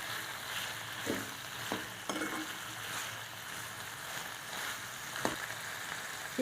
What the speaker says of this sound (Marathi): त्या फोडणीमध्ये आपण आता शिमला मिरची चांगली परतून घेऊ